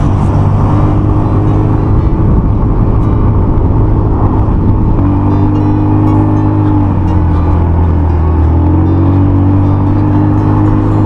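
A new motorcycle, still in its break-in period, holds about 6,000 RPM while climbing a road with a passenger aboard, a loud, steady engine drone with strong low harmonics that dips slightly in pitch midway, with no talk.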